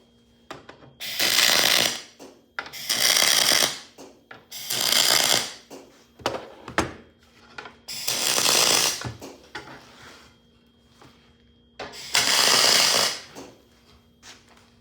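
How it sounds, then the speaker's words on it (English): Aluminum flat being welded onto a custom expedition truck fender, five loud bursts of harsh crackling buzz, each lasting a second or two, separated by quiet pauses with faint clicks and a steady low hum. "now I'm welding the flat on, and just follow the radius I cut with the jigsaw"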